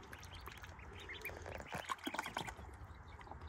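Ducklings at a pond quack softly in a quiet outdoor setting, with several faint, close calls overlapping one another.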